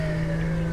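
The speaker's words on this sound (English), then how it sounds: "Let's turn on our siren" A steady police car siren in the GTA 5 video game wails continuously, loud and close, a sustained tone with no speech.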